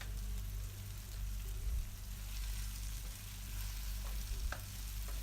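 Curry leaves stirred into restaurant-style pepper chicken frying in a pan, a low quiet sizzle with soft stirring scrapes and a few light knocks, close and without talk.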